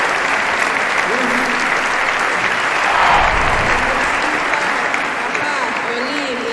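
Sustained audience applause at a family ceremony honoring an elderly father, steady and full throughout, swelling slightly around the middle, with faint voices mixed in.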